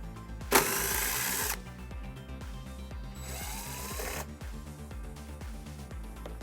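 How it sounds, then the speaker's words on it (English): Screws being removed from a 2018 Subaru Impreza hatchback with a 10mm socket on a power driver, two bursts of whirring motor noise about a second long each over steady background music, close up with no talking. "We're going to remove those using a 10mm socket."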